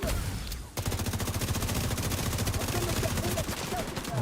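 Rapid, steady automatic gunfire from a sniper turret in a video game, the shots repeating in a fast, even rhythm after a brief quiet start and staying loud throughout.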